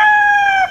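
A single rooster crow, loud and close, one sustained harmonic call lasting under a second, in a poultry-netted paddock.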